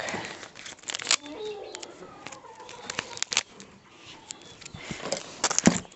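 Crinkling and rustling of thin plastic bags being handled in bursts, with a voice speaking faintly underneath.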